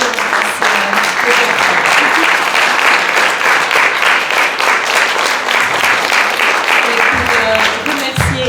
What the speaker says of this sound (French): On va faire un applaudissement vraiment collectif